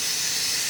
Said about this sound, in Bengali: এদিকে প্রেসার কুকারের আওয়াজ হচ্ছে